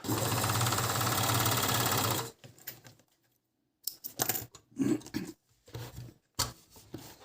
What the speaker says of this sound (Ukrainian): Оверлок крутиться в цю сторону.